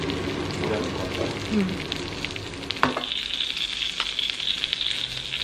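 Steady crackling sizzle of pork belly frying in a cast-iron pan, close and continuous, with a brief clatter partway through.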